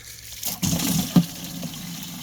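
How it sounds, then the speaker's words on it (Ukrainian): Water pours onto raspberry plants in a summer garden, a soft splashing gush with a brief surge and a small splat, close by over quiet outdoor background. "Поливаємо. Малинку заливаємо, бо сохне."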